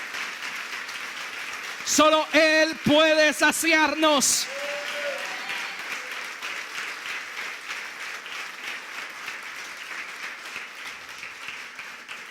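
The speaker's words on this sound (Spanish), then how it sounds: "Dele a Él un aplauso." Church congregation applauding, a steady wash of clapping that carries through the whole stretch, with a voice speaking briefly over it near the start.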